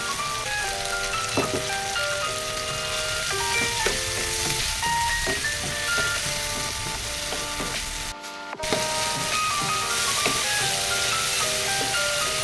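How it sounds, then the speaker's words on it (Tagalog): Tomatoes sautéing in a pan with a little dried fish, ground pepper and salt, for a galunggong sarciado. A continuous soft sizzle plays beneath a steady, tinkling melody. "Ito, ginisa natin ng tudo-tudo ang ating kamatis."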